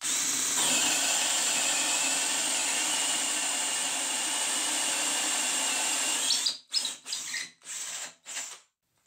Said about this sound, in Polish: I wiercimy. Wiercenie bez udaru.